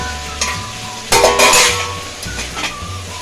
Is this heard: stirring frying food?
yes